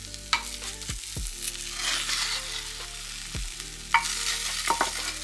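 Oven-roasted butternut squash being stirred in a pot, with close scraping and knocking of the utensil against the pot over a soft continuous sizzle, a few sharper clanks standing out.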